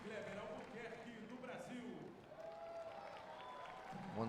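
A crowd applauds the referee from Brazil before a Paralympic 5-a-side football match between China and Mexico, the clapping steady and mid-distance beneath an announcer's voice throughout.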